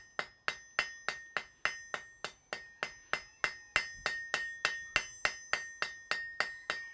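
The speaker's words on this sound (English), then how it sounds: "little light taps to planish out all the differences in height from the rounding process or the forging process" Light hammer taps planish a forged metal piece in a blacksmith's smithy: a steady, evenly spaced run of about twenty close, bright metallic strikes, each with a short ringing tail, heard alone.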